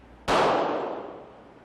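A single .40 caliber pistol shot firing a 165 grain bullet, one sharp loud crack with a long ringing decay, alone and with no voices.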